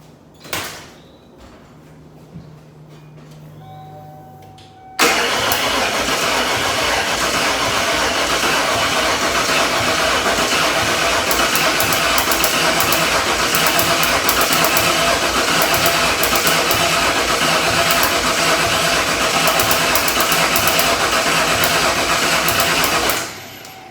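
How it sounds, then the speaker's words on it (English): A car engine newly fitted in a garage is cranked over by the starter with the coil wire unplugged, so it does not fire. After a few quiet seconds comes about eighteen seconds of loud, steady whirring that then stops. "I'm going to just let it kind of turn over about 6 or 7, 8, 20 times to let this oil start circulating through the engine."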